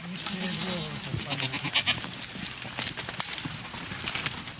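Goats on a farm bleat and shuffle amid a busy barnyard din, with a voice speaking over the animals throughout.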